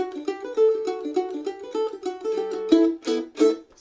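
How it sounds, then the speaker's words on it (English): Mandolin picking the old fiddle tune Fisher's Hornpipe, a quick run of bright plucked notes in steady rhythm, close and clear with no talking. "one of the oldest fiddle tunes,"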